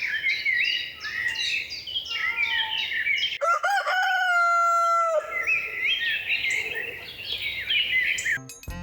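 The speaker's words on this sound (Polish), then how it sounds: "nagranie piejącego koguta" A rooster crows loudly and clearly, one long drawn-out call standing out over a busy background of chirping birds.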